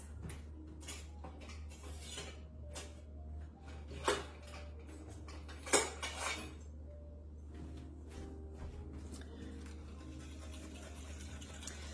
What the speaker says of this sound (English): let me grab my whisk